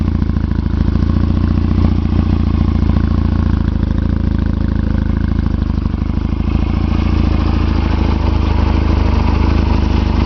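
A 2011 Roketa JL250P motorcycle engine idles loudly and steadily up close, a continuous low throbbing rumble with mechanical clatter and no voices.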